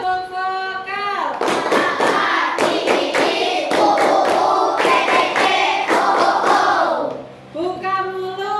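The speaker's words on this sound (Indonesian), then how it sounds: "kita tepuk vokal dulu ya" Classroom of pupils doing a vocal clapping exercise, loud patterned group claps in a rhythmic sequence, framed by children's voices before and after.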